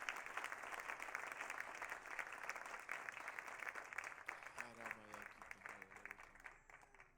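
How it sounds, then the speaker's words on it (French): A church congregation applauds for mothers at a Mother's Day service, a quiet, distant patter of many hands that keeps going with a voice speaking over it near the end. "Pouvons-nous applaudir pour nos mamans juste pour un moment?"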